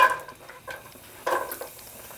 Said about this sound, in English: Hear that? It's sizzling.